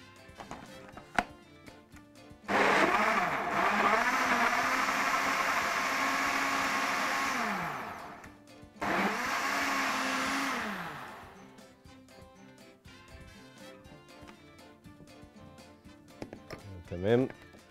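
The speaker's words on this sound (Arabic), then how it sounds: "نقفل الخلاط ونخلط." An electric blender whirs loudly while mixing a kiwi cocktail with banana, sugar, whipped cream powder and water, running in two bursts of several seconds each that wind down between, with quiet kitchen sounds around them.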